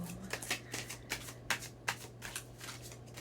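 Tarot cards riffled and shuffled by hand during a love reading, a quick run of crisp papery flicks and slaps, close and fairly quiet over a steady low hum.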